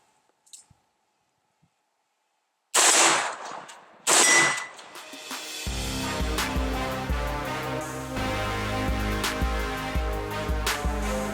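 Two loud, sharp AR-15 rifle shots ring out a little over a second apart after near silence, each trailing off quickly before steady music takes over.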